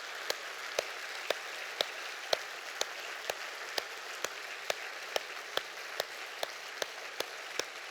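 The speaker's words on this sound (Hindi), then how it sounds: "तब लूंगा जब आप 1 मिनट तक नॉन स्टॉप अपने हाथों से जोरदार तालियां बजाएंगे।" At a yoga session on treating women's ailments, an audience claps loudly and without stopping. Dense, even clapping fills the whole stretch, with sharp individual claps standing out at a regular, roughly half-second pace.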